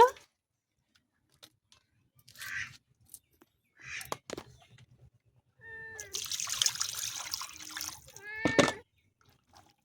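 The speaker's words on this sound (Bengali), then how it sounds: "আরও একবার জল দিয়ে ধুয়ে নেব।" Water splashes and trickles over raw mutton pieces being washed by hand, in short separate bursts with a longer pour in the middle, close by, with a cat meowing briefly in between.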